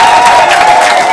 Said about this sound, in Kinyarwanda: Reka dukomere Imana amashyi